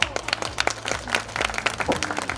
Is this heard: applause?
yes